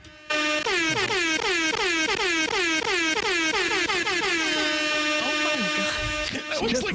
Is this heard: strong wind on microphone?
no